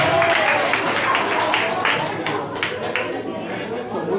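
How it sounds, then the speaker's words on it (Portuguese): Audience applause at a 2018 poetry soirée (sarau) in Rio, a dense wash of clapping mixed with crowd chatter that is loud at first and eases slightly toward the end. "Bate palmas, gente!"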